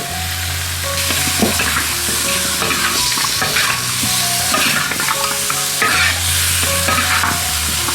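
Large pork bones and dark soy sauce stir-frying in a hot wok in a home kitchen, with a steady sizzle, scraping spatula strokes and clattering bones repeating through the stretch, and no talk.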